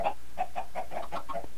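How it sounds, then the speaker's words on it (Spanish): Chickens clucking in a video game, a quick series of about eight short, evenly spaced clucks at moderate volume, heard alone. "Ya tenemos pollitos, por lo menos."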